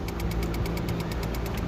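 The engine of a 2008 Honda Civic runs with a rapid, regular knocking tick, an even fast rhythm over a steady mechanical hum, heard close with no talking.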